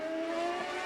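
A CART race car from the 2002 Montreal round revs its engine, a steady bright harmonic drone held loud and close for under a second.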